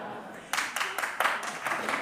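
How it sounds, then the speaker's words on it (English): A conference audience bursts into applause after a joke during a talk on world affairs, with scattered clapping rising suddenly and continuing in uneven waves, fairly close and moderately loud. "I'm pleased that you applaud that line"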